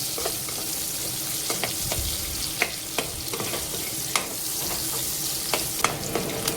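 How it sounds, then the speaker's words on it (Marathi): Finely chopped onion sautés in hot oil, a close, steady sizzle broken by regular scraping clicks of a spoon stirring in the pan, with no speech. "तेल तापलं, यात मी ॲड करणार आहे बारीक करून घेतलेला कांदा. परतून घेते कांद्याला छान."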